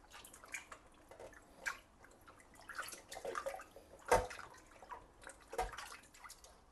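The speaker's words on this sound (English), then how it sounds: "you're going to give your ribs a good rinse" Raw pork ribs rinsed in water, with sloshing and splashing, drips and a couple of sharper splashes, close by and moderately quiet with no talk.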